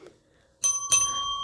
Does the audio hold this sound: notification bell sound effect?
yes